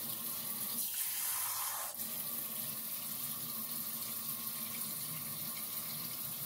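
Water pours from a small container onto a single leaf of a potted zamia plant, a steady close splashing trickle that runs for about two seconds and then gives way to a quieter, continuous watery hiss.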